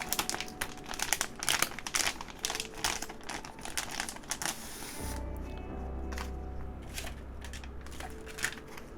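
Thin foam sheet for a KBD67 Lite R2 mechanical keyboard build crinkles close up, a steady run of dry crackling rustles that shifts to a lower, muffled handling rumble halfway through.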